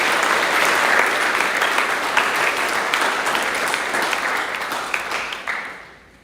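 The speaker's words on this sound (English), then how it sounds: "I think we need to give them a huge round of applause." An audience applauds after leadership speeches, a dense burst of clapping that holds strong, then thins and fades out over the last couple of seconds.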